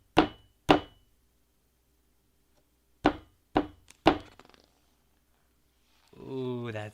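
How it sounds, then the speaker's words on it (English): Sharp wooden knocks on a door, close and loud: two spaced raps, a pause, then three more in a quick cluster, followed by a voice. "Someone was outside, knocking to come in."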